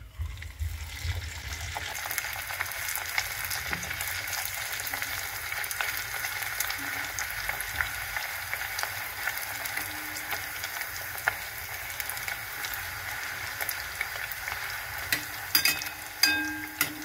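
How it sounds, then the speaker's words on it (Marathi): Bhatura deep-frying in hot oil: a continuous, fairly quiet crackling and bubbling sizzle that holds steady throughout, with a few sharper pops near the end. "चला तर आपण ह्या तेलामध्ये या ठिकाणी याला टाकूया."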